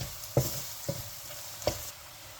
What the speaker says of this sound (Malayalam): കുറച്ച് മീറ്റ് മസാല, പിന്നെ നമ്മുടെ മഞ്ഞൾപ്പൊടി, ഇത്ര ഒന്നുകൂടി നന്നായിട്ട് വഴറ്റിയെടുക്കണം